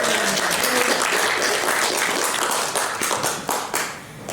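Audience at an AGM breaks into sustained applause, a dense steady clatter of many hands that holds strong for a few seconds, then thins and tapers off toward the end.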